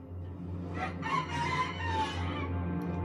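A person imitating a rooster crow in one drawn-out, rising and falling call, loud and close over a low steady hum.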